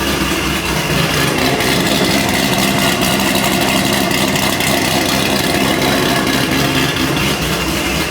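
A loud C6 Corvette sports car engine drones continuously at high volume, a dense steady roar with no pauses or voices throughout.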